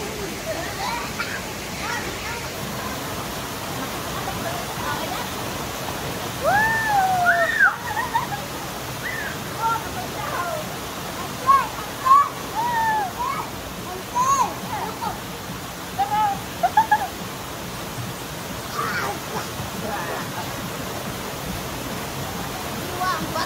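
A waterfall where people bathe in the Philippines keeps up a steady rushing roar throughout, with voices talking over it.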